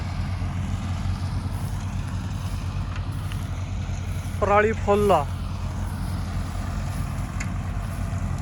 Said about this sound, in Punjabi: 3 ਟੈਨ ਹੈਪੀ ਸੀਡਰ ਤੇ ਸਟੈਂਡਰਡ ਟਰੈਕਟਰ